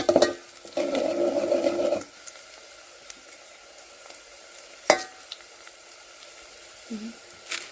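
Onion, curry leaves and spices frying in hot oil over a rustic wood-fired clay stove for biryani, with a loud sizzling burst up front, then quieter crackles, stirring clinks and a few sharp pan knocks.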